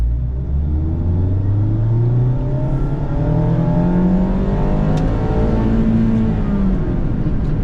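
A Mazda ND Miata fitted with a Roadster Sport Race exhaust pulls hard at full throttle from low revs, the engine note rising steadily through the gears, loud and close from inside the car with a droning exhaust rumble.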